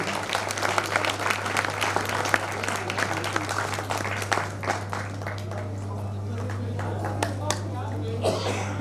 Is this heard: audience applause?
yes